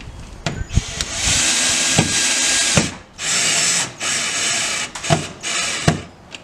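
A power drill runs at a lower speed while driving screws into the plastic housing of a Rachio WiFi sprinkler controller, giving close, steady whirring bursts broken by short pauses and sharp clicks.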